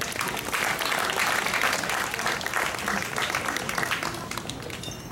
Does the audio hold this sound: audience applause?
yes